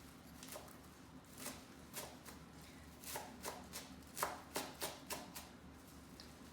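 A bunch of parsley piled into a mound and chopped with a knife on a cutting board, a steady run of crisp, close chopping strikes in irregular bursts with no talking.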